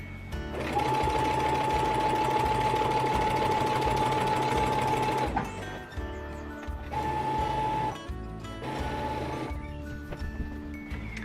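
A sewing machine runs loud and close, stitching binding onto a quilt in a long continuous burst with a steady whine, then stops and restarts for two shorter runs during a backstitch at a corner.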